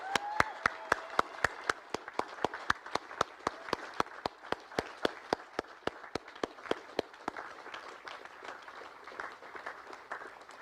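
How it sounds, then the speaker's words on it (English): Graduates at a Science and Agriculture awards graduation ceremony clap in a steady, evenly spaced rhythm for about seven seconds before it thins out, with no clear cheering on top. "I'm going to ask you to give them a beautiful applause and a big woohoo and a thank you!"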